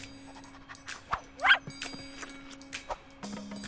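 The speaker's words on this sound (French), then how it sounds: "enfin si, par un chien affamé" A hungry dog gives a few short, faint barks and whimpers spaced over a few seconds against a quiet background.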